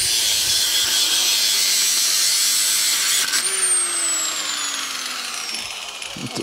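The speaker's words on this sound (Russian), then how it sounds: "По сути, на сегодня мы пиление закончили." A power saw grinds loudly and steadily through old, rotted metal pipes being scrapped at a Soviet-era dacha, a harsh continuous cutting noise with a tone that slides downward partway through.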